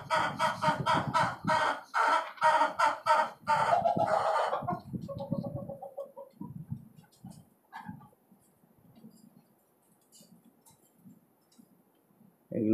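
Young desi and tiger chickens cluck in a cage, a burst of loud overlapping squawks and calls for the first few seconds, then softer scattered clucks and a quiet pause before one more call at the end.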